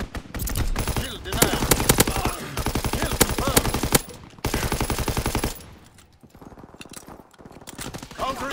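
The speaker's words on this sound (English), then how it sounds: "Enemy strafing from inbound" Loud, close machine-gun fire rattles in rapid bursts as enemy aircraft strafe in a WW2 shooter game, breaking off briefly, then resuming with a dense volley before fading into quieter noise, with voices mixed in.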